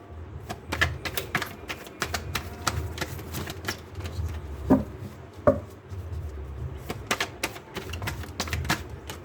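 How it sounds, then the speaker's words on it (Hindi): Tarot cards are shuffled and drawn by hand during a reading, giving a busy run of quick papery flicks and taps, some sharper snaps standing out, close and fairly loud with no talking. "आपके पार्टनर के कार्ड्स निकालने की कोशिश करते हैं।"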